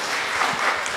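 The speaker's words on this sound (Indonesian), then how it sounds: "beri tepuk tangan ya" A brief burst of applause from a church youth gathering, heard as a short, even wash of clapping without any talking.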